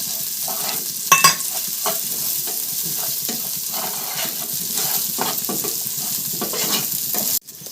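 Green chillies and chichurda leaves fry in a pan with a loud, steady sizzle and repeated scraping stirs, crackling throughout and cutting off abruptly near the end.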